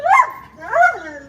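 A working dog gives two close, loud barks with a whiny, yipping edge, spaced about half a second apart.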